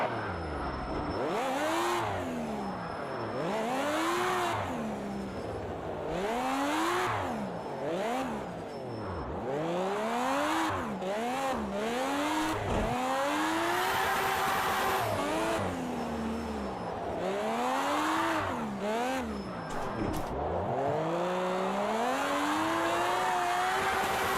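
Engine of a drift car in the Project CARS 2 racing game revving hard and repeatedly, rising and falling through gears with tyre noise, loud and continuous with no talk.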